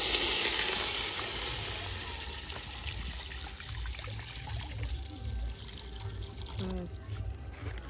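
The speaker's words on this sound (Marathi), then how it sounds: "आता त्यात ते जारमधलं पाणी जाणार." Water from a jar pours into a biryani pot of cooked masala, a loud rushing splash at first that settles into a softer trickle and sizzle, with faint voices in the background.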